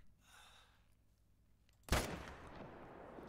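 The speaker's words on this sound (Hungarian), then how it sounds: "Gyönyörű lövés!" Single sharp rifle shot in the hunting video game theHunter: Call of the Wild, a sudden loud crack followed by a decaying rumble after a quiet, tense lead-in with soft breathing.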